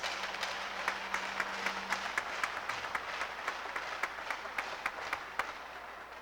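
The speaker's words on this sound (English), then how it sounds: "How about we give all 12 seniors one more round of applause?" A crowd at a high school senior night applauds at a distance, a steady wash of clapping with sharper individual claps popping out, fairly faint.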